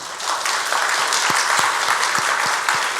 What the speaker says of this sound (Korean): 잘 살라고 박수 한번 해요